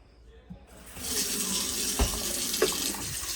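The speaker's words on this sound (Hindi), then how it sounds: "अभी पानी डाल लूँ इसमें" Water pours from a tap or jug into the water tank of a Nespresso coffee machine, a steady close splashing rush that starts after a short quiet moment, with a couple of small knocks.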